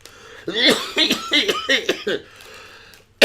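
A person coughs and chokes in a rapid series of harsh, raspy bursts, close up, before going quiet; a sudden loud noise hits at the end.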